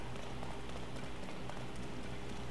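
Steady rainfall in the video game Tears of the Kingdom, a continuous close wash of patter and drops that holds at an even level throughout, with no voices.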